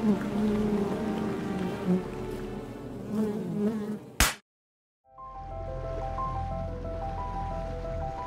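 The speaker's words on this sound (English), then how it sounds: "Oh, already mosquitoes." Mosquitoes buzzing near a full-time RV traveling to Canada, thin whining tones that drift in and out over a low background hum, close to the ear.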